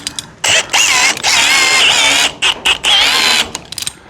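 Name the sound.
drill powering rope rescue ascender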